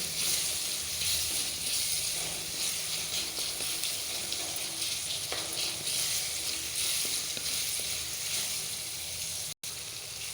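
Tomatoes, onion and garlic sautéing in oil for a drumstick stir-fry, a steady close sizzle and hiss with faint stirring scrapes, continuous and fairly quiet.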